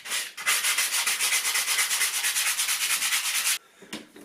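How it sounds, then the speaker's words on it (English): Rapid back-and-forth hand sanding of a plaster repair around a door frame, a fast rhythmic raspy scrubbing up close that stops abruptly, followed by a few light scrapes. "Okay, that's the sanding down done."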